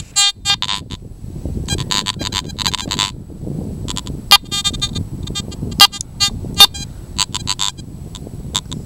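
A Garrett ATX metal detector signals over a seam of hot iron, giving repeated bright tonal beeps in short irregular bursts over a low rumbling background.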